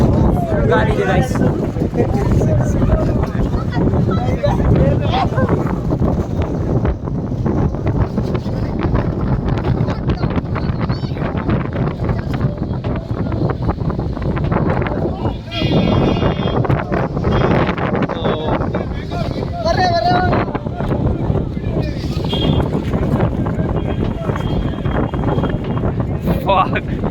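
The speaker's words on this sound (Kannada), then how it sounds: "ಗಾಳಿ ಇದೆ guys." Strong wind roars into the microphone throughout a boat ride on open water, a constant loud buffeting rush with people talking underneath it.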